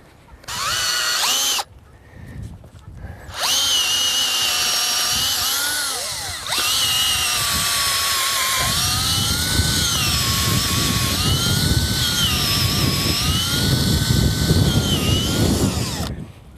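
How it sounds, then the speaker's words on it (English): A power drill with a 1/2 inch bit whines steadily while boring a hole for pasture fencing, starting and stopping a couple of times, then grinding on loudly with a varying pitch. "right at that intersection we're going to drill with a 1/2 inch drill bit"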